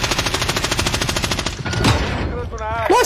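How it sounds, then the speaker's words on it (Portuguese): Rapid automatic gunfire in a battle royale video game comes from a prison building, a close, evenly pulsing burst lasting about a second and a half, followed by a voice speaking. "Da prisão que eles estão atirando neles lá"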